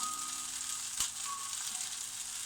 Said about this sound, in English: this is obviously the reason why the oil pan's on, because we're having fried bread with this